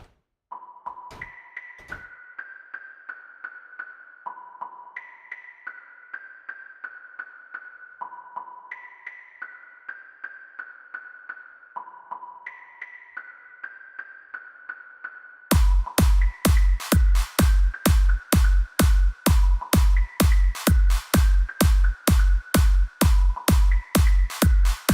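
Original 2013 music demo: a soft, repeating chime-like synth melody with an echoing ping tone, then a loud steady kick-driven beat enters partway through and pounds rhythmically to the end.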